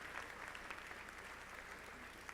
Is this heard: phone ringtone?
no